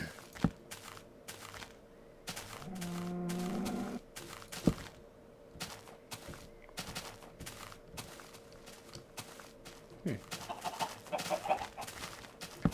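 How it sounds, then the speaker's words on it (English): Chickens cluck in the Minecraft video game, a run of clucks early on followed by scattered in-game footsteps and ambient sounds, moderately loud with no talking. "Hello, chickens."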